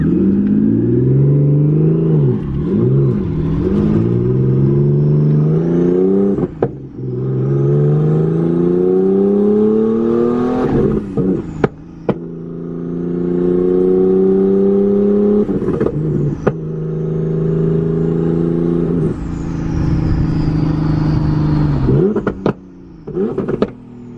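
A manual-transmission car engine revs up and down again and again while driving, loud and close inside the cabin, with each rise in revs broken by a gear change.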